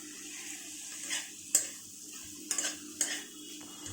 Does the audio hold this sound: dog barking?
no